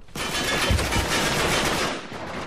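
Loud, dense gunfire from an Uncharted 3 multiplayer match, a rapid burst of shots with heavy low thumps early on, running almost continuously for about two seconds before tapering off.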